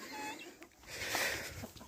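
Hens clucking outdoors on a snowy farm, soft intermittent clucks at moderate distance with faint background ambience.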